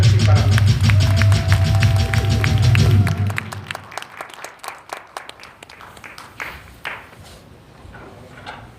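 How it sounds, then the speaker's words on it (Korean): At a March 2020 outdoor patriotic rally, the audience claps to welcome a speaker. The applause comes over a loud humming PA and voice for three seconds, then thins into scattered, fading individual claps. "큰 박수로 맞아주시기 바랍니다."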